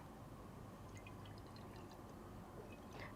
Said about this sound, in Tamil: முதல்ல நம்ம இதில் தேவையான அளவு தண்ணி ஊற்றிடலாம்.